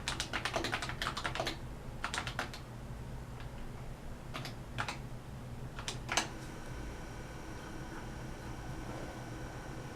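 Typing on an Apple IIe computer keyboard: bursts of sharp key clicks in quick clusters over the first few seconds, then sparser strokes, with a steady electronic hum and faint high whine beneath.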